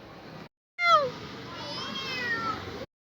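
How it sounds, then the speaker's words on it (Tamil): A kitten meows like a crying baby: a short opening sound, a brief pause, then a loud rising-and-falling wail that trails into a long, sustained, plaintive cry, close to the listener. "பூனை குட்டி குழந்த மாதிரி கத்துதுங்க."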